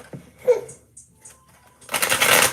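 Index cards used as a makeshift card deck being shuffled, a loud dense papery riffle burst near the end following quieter scattered handling sounds.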